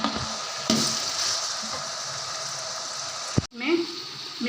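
Onion, green chilies and other ingredients frying in oil in a pot for Pakistani chana pulao, giving a steady loud sizzle with a sharp clatter of stirring near the end.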